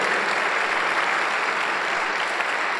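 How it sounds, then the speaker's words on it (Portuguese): A church congregation claps together in steady, dense applause, loud and continuous throughout with no pauses. "Pode dar um aplauso ao Senhor Jesus?"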